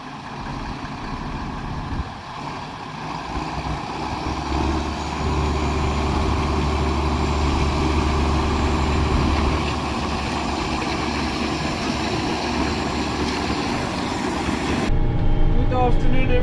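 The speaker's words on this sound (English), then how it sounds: "we're gonna use the John Deere 6930 to pull it out" A John Deere 6930 tractor pulls a fertilizer truck stuck on a gravel road, its heavy diesel engine droning and rising under load at close range before dropping away near the end.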